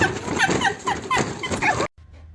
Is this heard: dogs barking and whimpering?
yes